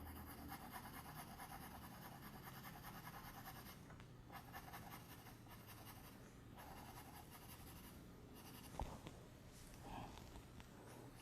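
Soft, dark 6B pencil shading hair on paper, a faint continuous scratchy rubbing with a few brief pauses and a light tap near the end, quiet and close.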